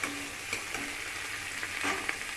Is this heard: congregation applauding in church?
no